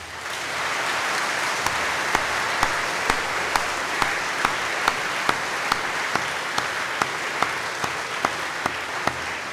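A school audience applauding to welcome back staff, a steady wash of many hands clapping with one sharp rhythmic clap standing out at regular intervals throughout.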